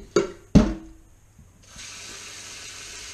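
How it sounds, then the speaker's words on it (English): Cold tap water running into a pot of fish pieces for stock, a steady hiss of the stream after two sharp knocks of the pot being set down. "I'll fill that with nice, clean, cold water."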